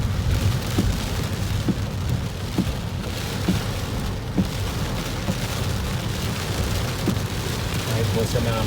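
Steady heavy rain pours during a storm, with a few dull thumps and distant rumbles of thunder, the wash of rain continuous and fairly loud throughout.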